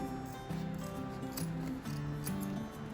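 Scissors trim the fabric ends of a zipper for a travel bag project, giving a few quick, close snips and rubbing sounds over a steady background hum.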